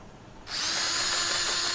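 Sanding an oak burr bowl spinning on a woodturning lathe with 180-grit abrasive: after a brief quiet moment, a loud, steady broadband whir and hiss begins and continues without a break to the end.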